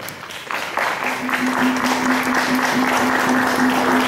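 Audience applause swells after a short quieter start into sustained, dense clapping from a crowd, steady and fairly close, with a faint continuous tone running beneath it.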